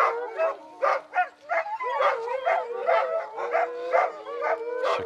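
Two young dogs on a leash whimper and whine in a rapid, repeated series of high, wavering cries, close and loud with short pauses between bursts.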